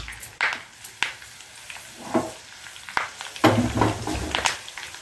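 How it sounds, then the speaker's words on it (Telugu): A hot oil tempering of dried red chillies, curry leaves and asafoetida for coriander pickle sizzles and crackles steadily up close, broken by a few light metallic taps and clinks from stirring in the pan. "మన పోపు వేగిపోయింది"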